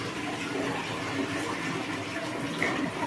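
Water rushes to flush and rinse a toilet during an Indonesian disability occupational skills exam, a steady broadband wash filling the whole stretch without talk.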